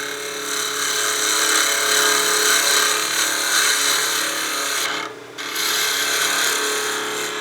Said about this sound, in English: with this being a 3/8 spindle gouge, I'm not removing a lot of material